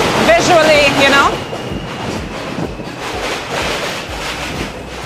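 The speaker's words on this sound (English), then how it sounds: "So this is the L train." An L train on the New York subway rumbles past, a long steady roar with a faint metallic squeal early on and wind buffeting the microphone.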